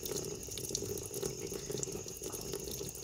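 Water flowing steadily through a fish egg hatching tank for African catfish, a continuous gentle gurgling rush with small splashes, quiet and without voices.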